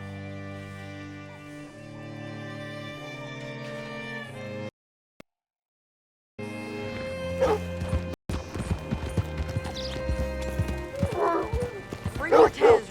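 Horse hooves clip-clop on hard ground in a video game, a steady rhythmic trotting under background music, broken by a brief silence, then resuming with nearby voices talking and a horse snorting.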